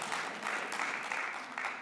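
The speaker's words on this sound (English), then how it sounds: "Thanks for clapping for my dad." Faint, steady audience clapping fills a short stretch at a talk, soft and distant with no voices over it.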